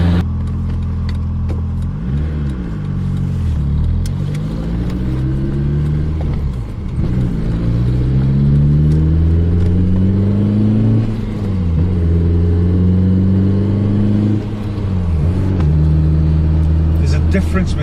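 A restored BMW E30 M3 Evo with its S14 four-cylinder engine pulls hard on a road drive, revving up through the gears in repeated rising sweeps with brief dips at each shift, loud and close from inside the car.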